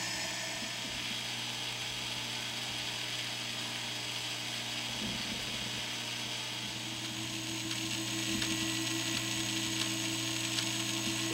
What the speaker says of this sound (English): This little motor here just kind of sits here and turns all the time until one of these are needed.